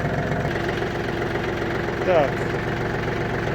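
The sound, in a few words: Yanmar F-210 Japanese mini tractor engine idling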